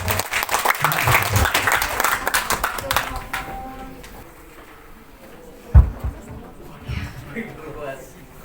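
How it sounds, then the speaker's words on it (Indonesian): An audience breaks into applause at a school gathering, a dense burst of clapping lasting a few seconds before fading into quieter room noise, a speaker's voice, and a few thumps. "Boleh tepuk tangan boleh."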